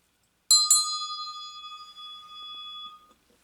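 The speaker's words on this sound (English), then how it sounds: "I'm gonna ring my bell" A small bell struck twice in quick succession, a bright metallic ring that lingers and slowly fades over a few seconds in an otherwise quiet room.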